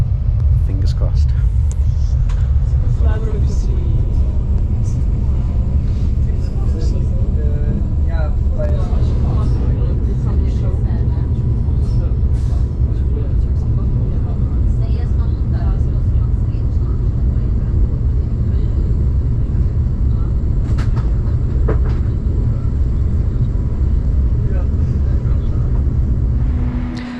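A steady, loud low rumble fills a moving train on an interrail journey across Europe, continuous throughout with faint clatter and scattered background noises.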